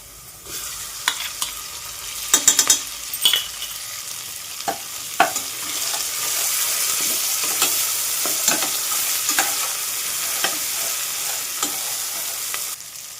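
Onion, garlic, coconut and ginger masala paste fries in a pan for stuffed masala brinjal, with a steady sizzle under repeated stirring scrapes and clinks of a spoon against the pan.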